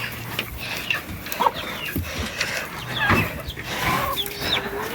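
Hens clucking softly and intermittently outdoors in a rabbit and poultry yard, with scattered scratching and rustling as they dig, and a faint background hum.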